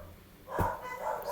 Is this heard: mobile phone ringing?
no